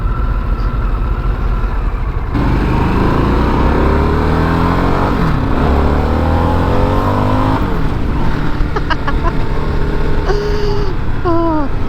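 A 2022 Harley-Davidson Sportster S motorcycle runs on the road, its engine a steady, fairly quiet drone with rising and falling pitch sweeps as it shifts and accelerates, plus continuous wind and road noise throughout.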